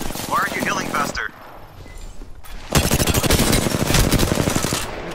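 Rapid automatic gunfire in a video game, loud and dense in a sustained burst after a quieter stretch, with a voice talking briefly near the start.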